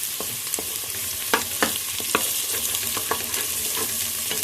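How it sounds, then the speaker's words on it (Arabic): Onions sautéed lightly in a pan without browning, a constant close sizzle punctuated by several sharp spoon-stirring clicks and scrapes, with no voices. "انا بشوح بس البصل، مش بحب اقلل اي خضار"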